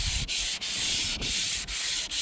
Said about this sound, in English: I'll just keep sanding in a diagonal until I get the lows and highs and sanded down